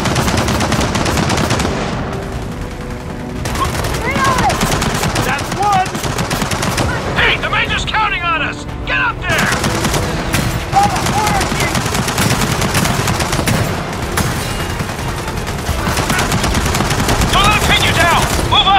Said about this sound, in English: The lab's just beyond that secure machine gun nest.